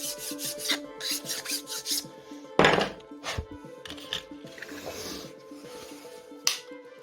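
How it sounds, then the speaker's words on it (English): An FX Impact .22 caliber pellet magazine is ground flat, producing a run of close, rhythmic rasping strokes with one louder, harsher burst midway before the strokes resume more lightly. "make sure that this is flat by grinding a little bit"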